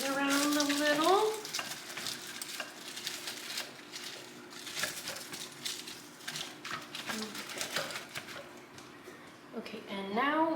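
Chicken and vegetables sizzle and fry in a hot pan, stirred with steady scraping and crackle throughout, with a voice speaking over the cooking noise.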